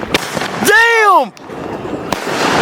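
Fourth of July fireworks go off up close: a sharp bang, then a loud whistling firework that swoops downward in pitch for about half a second, followed by another crack, with outdoor noise around it.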